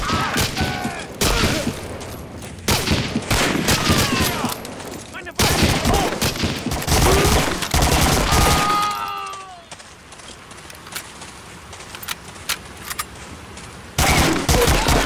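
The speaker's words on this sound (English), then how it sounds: "I've been shooting the barbed wire" Gunfire and shattering blasts crack through a World War II shooter battle scene in Medal of Honor: Spearhead, dense loud bursts repeating for several seconds, easing into a quieter rumble before another burst at the end.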